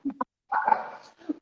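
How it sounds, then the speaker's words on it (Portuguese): Dogs bark in short bursts indoors, two quick barks followed by a longer stretch of barking and a final yip, sounding close and loud. "A cachorrada começou a latir aqui."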